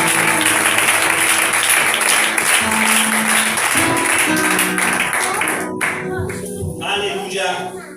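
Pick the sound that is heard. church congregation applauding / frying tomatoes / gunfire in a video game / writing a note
church congregation applauding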